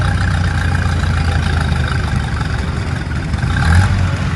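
Massey Harris 81R tractor engine pulling at a tractor pull show, a steady, loud low rumble held throughout with a slight surge in power near the end.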